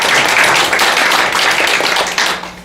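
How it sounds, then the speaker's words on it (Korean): Brief, loud burst of audience applause at a university forum, dense clapping from a nearby crowd that begins at once and starts fading after a couple of seconds. "우리 박수를 한번."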